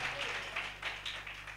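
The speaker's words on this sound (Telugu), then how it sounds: "ఒక్కసారి అందరు కలిసి చప్పట్లు గట్టి కొట్టండి" A congregation at a church revival meeting claps together, a brief burst of soft applause heard from some distance.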